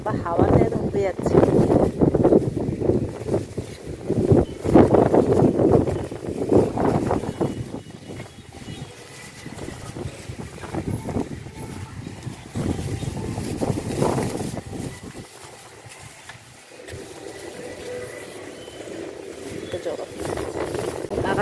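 Gusty wind buffets the microphone outdoors under a darkening, cloudy sky, rising and falling in strong rushes while a person talks over it.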